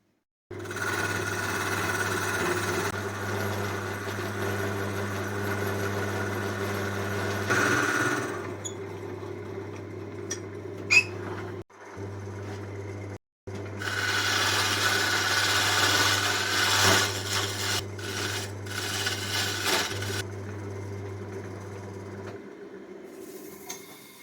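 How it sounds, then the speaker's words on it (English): A wood lathe spins a laurel blank while a small mortise is cut into its bottom, giving a steady close motor hum with scraping cutter noise that drops out briefly midway before resuming. "I'm going to make a small mortise in the bottom so that I can turn the job around later on"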